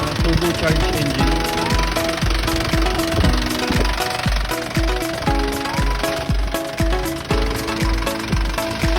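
Isuzu 4JB1 2.8-litre turbocharged diesel engine in a 2014 Isuzu NHR truck running steadily nearby, a loud rhythmic knocking clatter over a low rumble, with someone talking over it.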